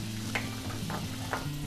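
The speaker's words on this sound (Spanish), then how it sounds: "aquí dejamos que nuestra mantequilla se derrita" Butter melts in a pan for a chicken and mushroom risotto, giving a soft, steady sizzle with a few faint crackles over a low background hum.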